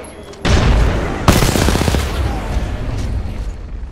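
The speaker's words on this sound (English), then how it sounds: "Oh no! Grenade!" In the Apex Legends video game a grenade goes off as a loud close blast, and a burst of rapid gunfire follows immediately. Sporadic shots continue over a steady layer of game noise.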